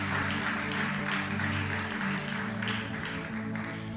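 A church congregation at an Easter seminar claps for the Lord and a newly arrived preacher, with sustained applause over a steady background of music or organ tones.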